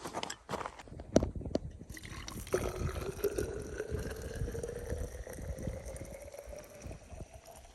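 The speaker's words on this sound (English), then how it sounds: "I'm just gonna put the rest of this boiling water back in the water bottle." Boiling water poured into a water bottle outdoors at high altitude, a steady trickling stream whose pitch rises as the bottle fills, preceded by a few clinks and handling knocks.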